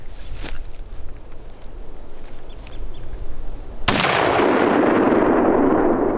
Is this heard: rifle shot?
yes